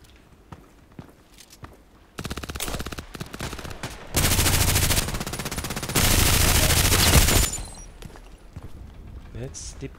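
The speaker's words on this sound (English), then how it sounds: "That's the power of the machine gun." Automatic machine-gun fire in the online shooter Contract Wars comes in long, dense, rapid bursts, loud and close, with scattered footsteps and clicks before and after.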